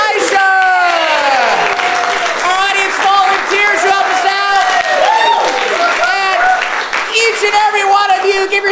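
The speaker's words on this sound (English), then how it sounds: "big round of applause to Justin, Aisha, our audience volunteers" An audience at the end of an improv comedy show claps and cheers in a sustained round of applause while a host keeps talking over it.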